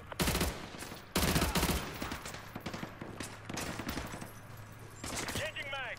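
Bursts of gunfire from the video game Call of Duty Modern Warfare 2 crack out in loud repeated volleys, mixed with shouted squad voices and battlefield noise, then a brief lull before more firing.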